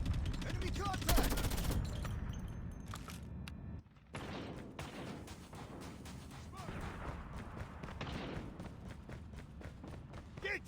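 KILO assault rifle firing in a video game: dense, loud automatic bursts and overlapping shots, with thumps and battle noise and a brief pause partway through.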